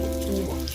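Thick Jamaican saltfish fritters fry in hot oil in a small, narrow pot, giving a steady close sizzle and crackle that holds evenly for under a second, with no voices.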